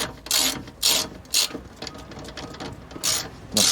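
Ratchet winding out suspension bolts on a Ford Focus MK1, a series of loud close clicking bursts in an irregular rhythm, about six sharp ratchet swings with quieter ticking between.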